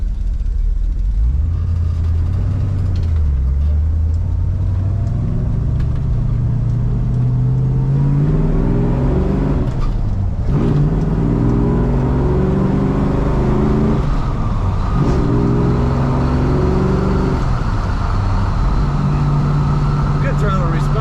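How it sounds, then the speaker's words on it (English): A 1964 Ford Galaxie 500 XL with a floor-mounted 4-speed revs its engine and pulls away, the steady low drone climbing through several rising pitch sweeps, loud and close throughout. "Good throttle response and good acceleration from this Ford."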